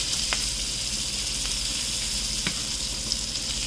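Salmon sears in a hot pan with butter, a steady, close hiss of frying with a few faint scrapes and taps from a utensil against the pan.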